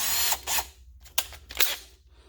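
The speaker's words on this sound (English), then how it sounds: "I'll go back with a smaller drill bit to give me a pilot hole." A power drill bores a pilot hole with a small bit into the steel frame of a Ram 1500 pickup, several short bursts of close whirring separated by brief pauses.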